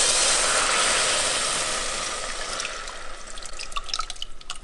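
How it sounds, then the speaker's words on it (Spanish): Tomato salsa poured into hot oil in a pot sizzles loudly at first, then settles into a quieter crackling fry with scattered pops and drips, with no voices. "en la misma olla donde cocinamos el jitomate, agregué un poco de aceite y vamos a freír la salsa"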